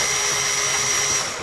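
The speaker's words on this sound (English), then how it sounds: "just put the drill in and move it in a circular motion just to make the hole a little bigger" An electric drill bit is worked in circles to enlarge a hole in laptop plastic during a power jack repair, a steady close high-pitched whir lasting the short moment.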